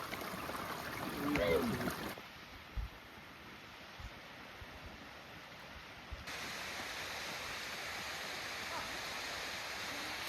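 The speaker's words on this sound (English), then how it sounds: "Another cool Assynt waterfall." Clashnessie Falls, a waterfall in Assynt, pours with a steady distant rushing hiss, with brief wind and handling bumps and a short stretch of voices early on.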